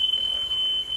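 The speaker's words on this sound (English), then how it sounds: "If you are hearing any sound, that is my alarm" A kitchen smoke alarm, set off by heat from palm oil frying onions for stew, emits a steady high-pitched tone that runs through the second at moderate loudness over quiet room noise.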